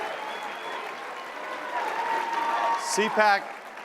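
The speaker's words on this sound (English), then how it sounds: "Huge round of applause." Sustained applause from a big CPAC conference audience, steady dense clapping with a voice briefly cutting in near the end.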